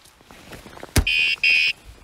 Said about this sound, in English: the alarm went, off, went on